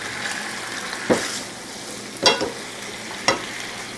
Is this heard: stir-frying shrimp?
yes